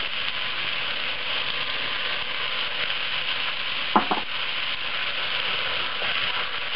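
Garlic sautéing with onions in a pan gives a steady, fairly loud frying sizzle that runs throughout, with one brief clatter of utensil on the pan near the middle.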